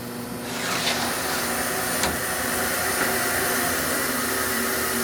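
An Omniturn GT-75 Series III gang tool CNC lathe with its spindle running slowly, a steady broadband whir and hum that stays constant and fairly loud, with a couple of faint clicks.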